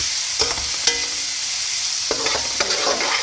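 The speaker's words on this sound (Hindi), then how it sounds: "इनको ऐसे मिक्स करना है।" Chopped tomatoes being stirred in a pan over a soft sizzling hiss, with a few sharp spoon scrapes and clinks near the start and a cluster toward the end.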